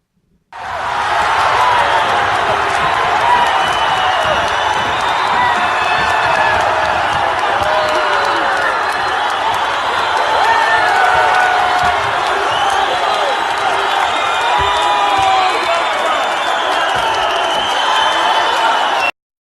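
A large crowd at a rally cheers, whoops and claps in a loud, unbroken roar that starts abruptly and holds steady for nearly twenty seconds.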